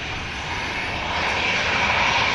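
An EasyJet jet airliner at the airport gives off a continuous close engine roar that builds slightly in loudness, with no talk.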